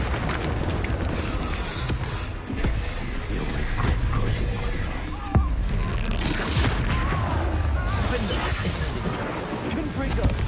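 Expulso explosion spell cast during combat in Hogwarts Legacy, heard as booming blasts and crashing impacts within a dense, continuous battle din, with a voice talking over it.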